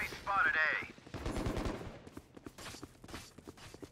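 Bursts of rapid automatic gunfire in the video game Valorant, sharp repeated cracks following an early swooping synth tone, dense at first then thinning into scattered shots, with a player talking faintly under the action.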